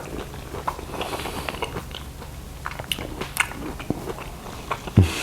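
Close-up bites and chewing of cooked chocho (chayote) sweetened with cinnamon, with soft crunches and moist mastication sounds repeating unevenly, ending in a sharper bump.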